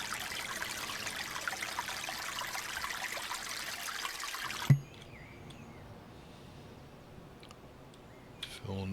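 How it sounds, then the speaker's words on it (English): Water runs steadily into a sink in a survival video game, a broad continuous trickling rush for the first half that stops abruptly with a thump, leaving quiet ambience. "Fill sink."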